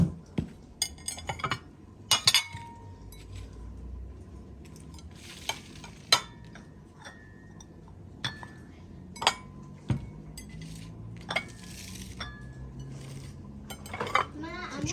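Dishes and glassware being unpacked and set out at home, with scattered sharp clinks and clatters of plates, cups and cutlery at irregular intervals against a quiet background, some louder knocks close by.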